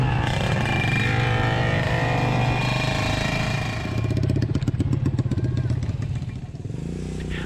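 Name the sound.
motorcycle riding to the location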